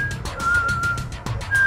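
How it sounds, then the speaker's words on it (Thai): A person whistles a quick, steady run of short notes, clear and close, with no other voices. "หยุดผิวปากเดี๋ยวนี้"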